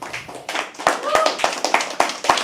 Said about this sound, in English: can we have a huge round of applause for Harsh?